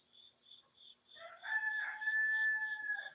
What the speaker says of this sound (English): my rooster's very lively this morning